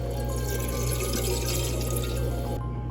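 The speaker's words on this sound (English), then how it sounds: "got my pot. Gonna fill it up with water." Tap water running steadily into a cooking pot in a kitchen, a loud continuous splashing rush that stops abruptly near the end.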